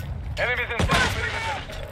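Gunfire in Call of Duty: Modern Warfare II, with a burst of shots and a heavy impact mixed under a voiced radio callout during a close, busy firefight.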